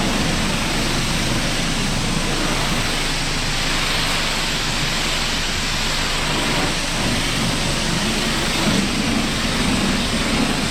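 Water spraying steadily onto a car during a final wash, a constant hissing rush with no breaks, moderately loud and close, no voices.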